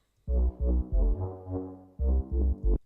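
A doubled flute synth preset over deep bass, a short phrase of sustained and stabbed notes with a heavy low rumble, loud and alone with no voices.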